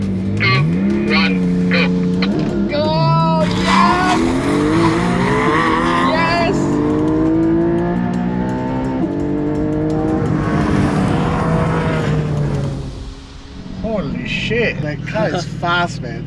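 A BYD Seal electric car in a drag race against supercars, with a loud whining motor rising in pitch as it accelerates and someone talking excitedly over it throughout.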